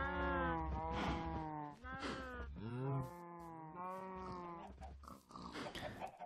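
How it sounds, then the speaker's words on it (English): Several pigs in the video game Minecraft grunt and squeal in quick succession, a string of close, fairly loud animal calls with no talking over them. "That's a lot of pigs."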